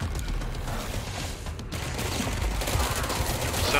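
Rapid, sustained automatic gunfire from a weapon in the video game Control, a dense continuous burst of loud shots with no talking over it.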